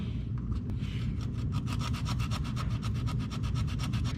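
Old, corroded ignition points from a 1974 IH Scout are filed with a fingernail emery board, producing a close, steady series of quick rasping strokes in a regular back-and-forth rhythm over a low background hum.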